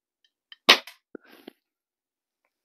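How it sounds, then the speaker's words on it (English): A Daisy 840 multi-pump air rifle fires at a can: one sharp, close crack, followed by a few small metallic ticks and rattles, then silence. "Let's shoot the can. First can on the right."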